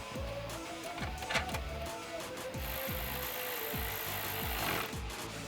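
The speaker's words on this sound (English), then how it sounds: "attach our nut to the top and secure it with our 10mm" 10mm socket wrench ratcheting as it tightens a nut on a Corsa closed-box cold air intake for a Chevrolet Silverado 1500, a run of quick close clicks in short repeated bursts over a faint hum.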